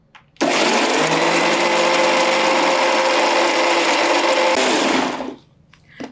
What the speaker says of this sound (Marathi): मिक्सरमध्ये ही चटणी फिरवताना यामध्ये दोनशे एम एल पाण्याचा वापर केलेला आहे